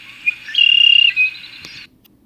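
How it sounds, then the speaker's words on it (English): A red-winged blackbird in the Bulkley Valley gives a single clear song: a short introductory note, then a loud buzzy trill lasting about a second, ending with a brief note, close and alone against faint background. "It's a red-winged blackbird"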